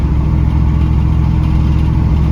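A 1974 Chevy C10 pickup with new U-joints and a balanced driveline, heard from inside while driving: a loud, steady low droning rumble with a constant vibration hum and no breaks.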